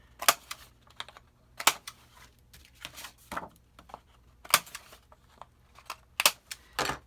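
Sharp, separate clicks and snaps from a corner rounder punch trimming the corners of paper album pages, coming in irregular bursts close to the mic in a quiet room.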